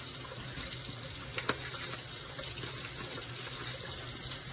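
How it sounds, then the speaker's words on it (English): Cold tap water runs steadily over beef chunks in a broad, even hiss, with a couple of faint knocks near the start and no talking. "I'm gonna rinse off the beef chunks"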